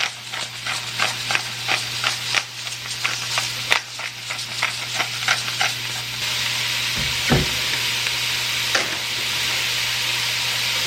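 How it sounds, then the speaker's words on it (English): Salt and pepper sizzle in a frying pan while a utensil stirs, giving loud continuous frying crackle with repeated scraping strokes and clinks, then settling to a steady sizzle. "I'm also gonna go in and add some salt and some pepper."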